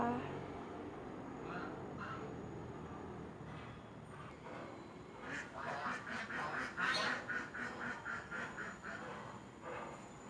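Faint ducks and geese quack in a rapid run of short calls in the background of a garden while a person talks softly.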